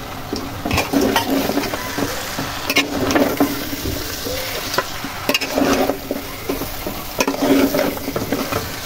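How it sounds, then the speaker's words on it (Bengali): Beef is stirred with whole spices in a hot pan for a kosha mangsho curry, with a steady sizzle and frying hiss under repeated scraping and clanking stir strokes, close and fairly loud throughout. "এবার আমি বাকি মাংসগুলো এভাবে দিয়ে দিলাম।"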